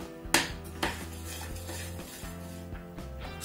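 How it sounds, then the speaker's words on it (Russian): Cherry sauce with curry seasoning being stirred in a pot: two sharp spoon knocks against the pot, then quieter scraping and light clinks, close by with no talking. "Все хорошенько перемешиваем."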